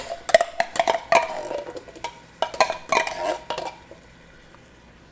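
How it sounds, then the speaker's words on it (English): Canned kidney beans being added to a pot of chili, giving a run of clinking metal and wet kitchen clatter in quick bursts, fairly close, with no talking. "So we're adding our kidney beans here."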